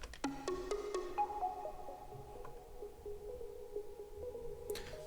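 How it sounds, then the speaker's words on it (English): Bright electronic synth counter melody from the second drop of a song, a run of clean plucky notes stepping up and down over a faint background, quiet and without talking. "in the second drop, the counter melody switches up, which you might be able to hear"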